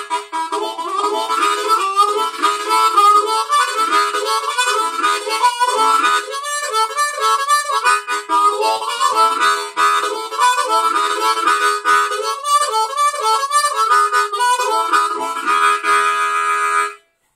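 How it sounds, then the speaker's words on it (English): Hohner Special 20 harmonica in A playing a bluesy solo, with rapid bends, wavering sustained notes and choppy breathy phrases. It plays loud and close with no talking, then stops abruptly at the end. "I'm playing in an A harmonica. It's a Hohner Special 20,"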